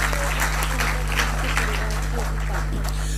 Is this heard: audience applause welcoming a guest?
yes